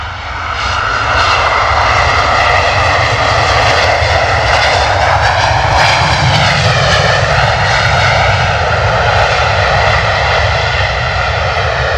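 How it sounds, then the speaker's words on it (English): A Jet2 Boeing 737 landing at London Stansted Airport roars loudly and continuously with screaming reverse thrust, a sustained, close, powerful engine blast with shifting whine that fills the whole stretch. "Full noise arrival there from the Jet 2, eh? Mate, those reverse thrusts were screaming."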